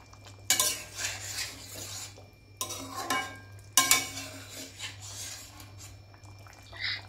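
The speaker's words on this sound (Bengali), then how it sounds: "তরকারিটা এবার নেড়ে দেখে নেব সব সবজিগুলো ভালোভাবে সেদ্ধ হয়েছে নাকি" A spoon stirs a mixed vegetable curry of taro and potato in a pan, with bursts of scraping and clinking against the metal between quieter gaps, set over a low steady hum.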